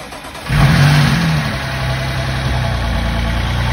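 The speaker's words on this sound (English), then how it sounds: "the previous owner showed me a video of the engine running on his driveway" Engine of a wrecked BMW M4 Competition, filmed running on a driveway, catches with a brief rev and then settles into a steady, fairly loud idle hum.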